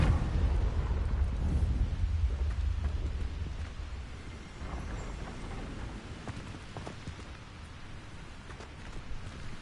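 A Confringo spell explosion in Hogwarts Legacy booms as a heavy, deep rumble that slowly dies away into crackling, debris-like noise, with no voices over it.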